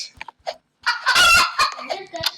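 A cartoonish chicken in the Roblox-style game Obby clucks and crows in a burst of squawky calls after a few short clicks, loud and close.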